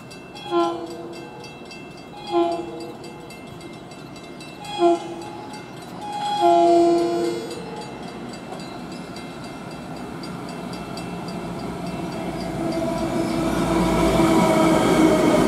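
Commuter train pulling into New Hyde Park station on the Long Island Rail Road line, a few short horn blasts early on, then a rising rumble of wheels and cars drawing closer and louder along the platform.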